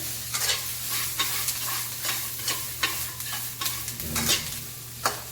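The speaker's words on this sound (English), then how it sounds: "So now it's time to add in the tofu. Then we're gonna mix it up again." Tofu being stirred into a spice mixture frying in a pan: a continuous bright sizzle with regular scraping strokes of the spoon, close and fairly loud, with no one talking.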